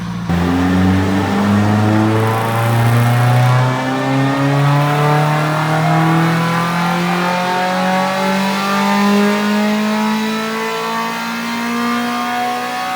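Mazda MX-5 NC engine on a dyno, tuned with an ECUMASTER BLACK unit, in a single loud pull, its harmonics climbing steadily through the rev range with no talk.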